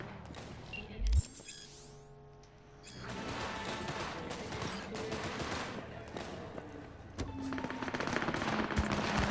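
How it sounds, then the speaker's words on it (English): Bursts of rapid gunfire crackle through a busy, dense mix of Cyberpunk 2077 game noise, with a loud thump early on and steady chaotic action throughout. "With all the gunfire, I'm getting shot at the moment"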